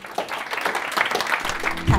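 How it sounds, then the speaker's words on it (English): Podcast audience applause, a dense wash of many hands clapping at moderate volume that continues steadily, with a voice coming in briefly at the end. "Can I have a big round of applause all the way from London?"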